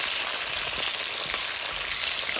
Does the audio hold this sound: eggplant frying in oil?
yes